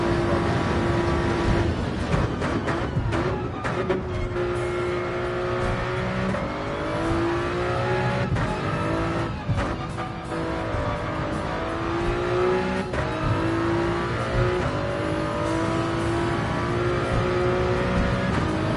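Race car in Gran Turismo 7 pushed flat out on a hot lap, engine revving hard and continuously with rising pitch through gear changes, loud and close, no voices over it.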